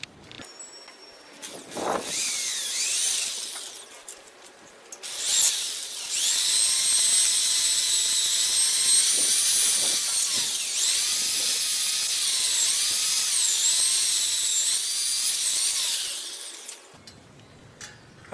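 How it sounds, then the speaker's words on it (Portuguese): A steel wire brush scrubs rust off the wheel of a Yamaha XV 250 Virago motorcycle, producing a loud, close, high whining scrape that starts in short bursts and then runs steadily for about ten seconds before stopping. "Vou passar aqui a escova de aço e depois uma lixa para fazer o acabamento aí."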